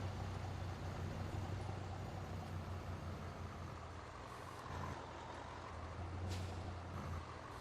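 A beet-loaded truck idles and hisses with air brakes in Farming Simulator, a low steady engine drone under broadband rumble with short sharp releases of air, including a distinct burst near the end.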